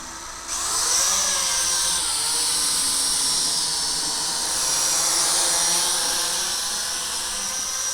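An FQ777 FQ02W folding quadcopter drone does an auto takeoff: its motors abruptly spin up into a loud, high-pitched buzzing whine, then hold steady in flight with small shifts in pitch.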